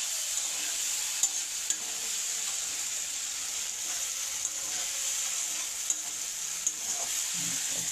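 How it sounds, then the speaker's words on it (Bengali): Steady, even sizzle of something frying in a pan, with a constant bright hiss throughout and a few faint clicks and taps, no talking. "আমরা একটু সময় ভেজে নেব"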